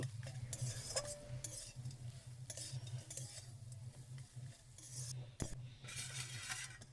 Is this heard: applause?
no